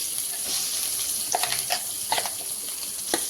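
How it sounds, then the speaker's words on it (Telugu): Ground coriander chutney is mixed into a hot mustard-seed tempering in a pan, giving a soft steady sizzle with several sharp spoon scrapes and stirring taps close by. "ఇప్పుడు మనం మిక్సీకి వేసేసుకున్న కొత్తిమీర పచ్చడి దీంట్లో వేసేసి"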